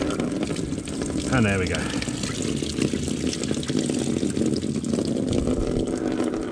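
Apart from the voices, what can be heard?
old coolant draining from a 1998 Suzuki GSXR750 motorcycle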